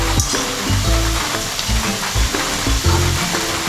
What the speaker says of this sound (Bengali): আলুটা আমি এইভাবে ভেজে নিচ্ছি